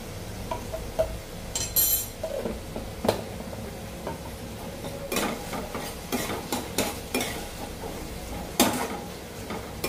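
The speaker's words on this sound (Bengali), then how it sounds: "একটু আদা পেস্ট, একটু রসুন পেস্ট আর একটু কাঁচা লঙ্কা পেস্ট দেব।" Ginger, garlic and green chili paste fry in a pan while being stirred, a soft steady sizzle punctuated by repeated scrapes and clinks of a spoon against metal, close and without talk.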